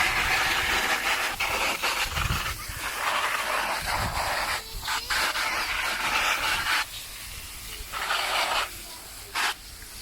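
Garden hose jet spraying water to rinse a pool robot filter, a steady loud hiss that breaks off briefly a few times, close and without talk.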